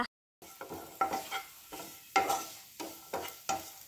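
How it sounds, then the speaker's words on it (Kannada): Grated dry coconut is stirred and fried in a pan for a dry fruit laddu, with about eight rhythmic scraping strokes over a light, close sizzle and no talking. "ತುರಿತಿನ ಗೋಂಟು ತಾರೇನು ಫ್ರೈ ಮಾಡ್ಪುಗ"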